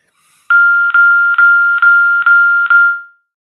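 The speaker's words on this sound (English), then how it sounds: "What was that bell for, Jan?" A school bell rings to mark the change to the next class period, sounding as six loud, rapid electronic pulses in a steady rhythm over about two and a half seconds, with nothing else around it.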